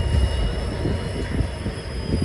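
A diesel locomotive on a Kamakhya train route rumbles steadily with a deep low-end drone and a faint high whine, heard from close by in light rain without any voices.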